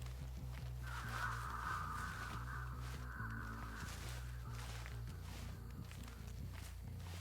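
Crows caw in a swampy video game area called the Pale Rose Backwater Swamp, harsh calls drifting over a steady low drone with soft footstep-like crunches, fairly faint and continuous.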